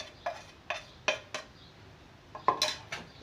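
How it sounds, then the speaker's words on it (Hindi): A spoon mixes chana chaat in a bowl, producing a handful of distinct close clinks and scrapes at irregular intervals with quiet gaps between them. "और अब इसको मैं अच्छी तरह मिक्स कर लूँगी।"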